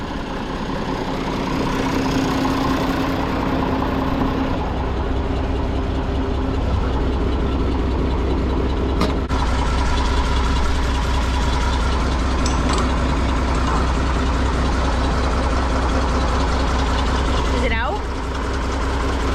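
A heavy diesel tractor engine idles continuously close by, a steady low throbbing rumble with occasional clanks, and people talk over it at times.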